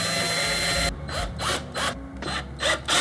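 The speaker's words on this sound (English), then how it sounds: "as I make my marks and drill my pilot holes" A power drill bores pilot holes in the frame of a DIY Rockwool bass trap on a floor. A steady motor hum gives way to several short, loud whirring bursts of drilling close by.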